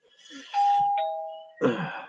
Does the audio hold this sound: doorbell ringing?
yes